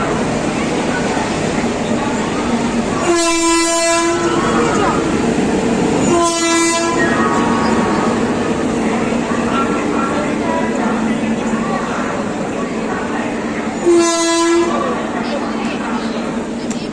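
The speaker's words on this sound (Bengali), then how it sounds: "আমাদের ট্রেন স্টেশনে ঢুকে পড়েছে।" A train pulls into a busy Indian railway station on a trip to Puri, its horn blaring in three long tonal blasts over a steady rumbling rolling noise and crowd murmur.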